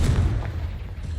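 A Confringo blasting spell detonates in Hogwarts Legacy inside a cave maze, a single deep, rumbling boom that swells loudly at first and then fades.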